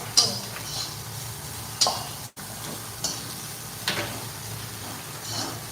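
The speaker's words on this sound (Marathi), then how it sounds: "आपल्याला सारखी हलवत राहायची म्हणजे ती सगळ्या साईडने अशी छान खरपूस भासते" Dried fish (sukat) frying in a pan while being stirred, soft continuous sizzle broken by a few distinct spatula scrapes and clinks against the pan, close and moderately quiet.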